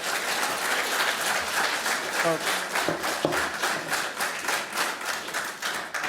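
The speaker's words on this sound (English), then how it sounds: "it's going to slow the meeting down if we get applause for everything" An audience at a city planning commission public hearing breaks into steady applause, a dense wash of many hands clapping in a meeting room, with a few louder taps and a brief voice underneath.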